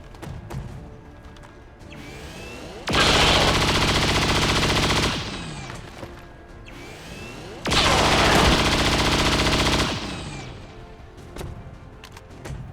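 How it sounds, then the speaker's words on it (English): Two long bursts of rapid automatic gunfire from a Chain Shot in XCOM 2 War of the Chosen, each loud and sustained for a couple of seconds, separated by quieter game ambience. "we can now use Chain Shot to take out the officer"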